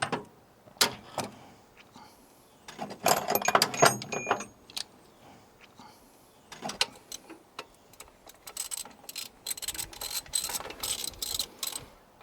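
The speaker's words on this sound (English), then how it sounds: "You got the ratchet to tighten those up?" Ratchet tightening spark plugs on a 1963 Cadillac, bursts of quick metallic clicking in several separate runs with pauses between, close and fairly quiet.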